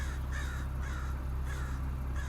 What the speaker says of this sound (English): bird's going nuts out here.